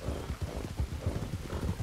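Horse hooves clip-clop in a steady, close rhythm in the RedM game, a Breton horse walking at an even pace with no talking over the steps.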